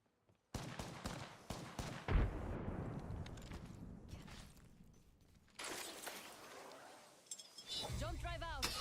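A grenade blast in a sci-fi shooter video game erupts loudly after a thrown grenade, followed by rumbling debris and gunfire-like crackle, with game sounds and talk mixed in around it.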